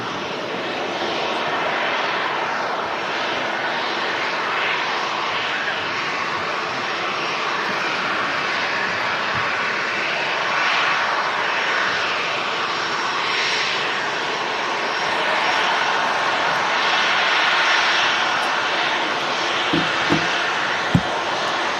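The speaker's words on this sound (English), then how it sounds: "Rolling out is the Ryanair 737" A Ryanair Boeing 737 airliner taxis at Manchester Airport, its engines producing a loud, steady roar that holds throughout, with a few brief knocks near the end.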